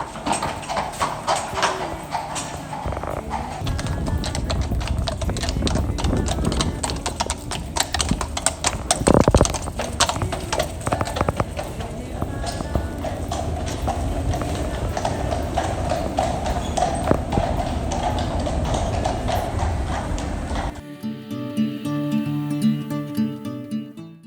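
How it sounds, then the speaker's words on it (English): Horses in open stables, with steady clip-clopping hooves on a hard floor heard up close for about twenty seconds under a busy ambient wash, before the scene cuts away to something else. "the stables were open to the public and the horses weren't spooked by any random person coming up to them"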